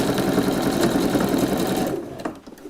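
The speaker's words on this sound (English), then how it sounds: "So I'm just going to stitch all the way" A sewing machine stitches fabric in a steady, close whirring run that stops abruptly near the end, followed by a few soft clicks in quiet.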